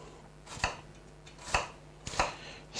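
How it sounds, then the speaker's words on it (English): A knife chops an onion into small pieces on a board, three sharp, close knocks spaced about a second apart with quiet pauses between, no voices. "So let's cut the onion."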